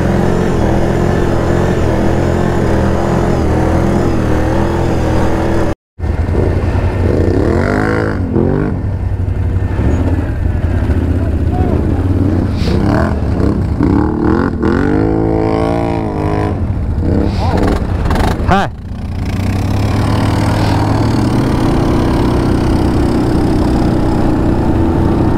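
Engine of an all-terrain vehicle in 4x4 mode, driving through deep snow, drones steadily and loudly throughout, with a brief cut near the start; someone talks over the constant motor noise.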